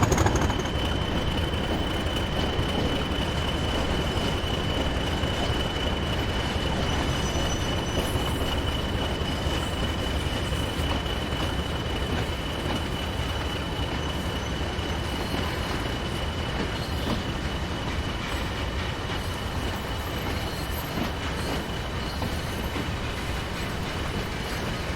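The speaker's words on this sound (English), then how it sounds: "40054 is seen here departing Leeds with a morning tanker service." A Class 40 diesel locomotive, number 40054, departs Leeds hauling a morning tanker train; a steady, dense rumble of engine and rolling wagons runs loud and continuous throughout, with a faint high whine of wheels.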